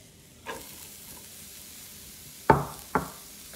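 Onion sizzling in a pan, a soft steady frying hiss broken by three distinct scraping stirs, one early and two close together near the end.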